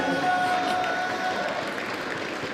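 Audience applause and cheering for the finalists of a Smash 4 grand final at a gaming convention, a steady dense wash of clapping that holds at even loudness throughout.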